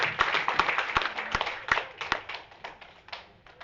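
A small audience at a talk claps, with sparse, uneven individual hand claps rather than full applause, fading gradually toward the end.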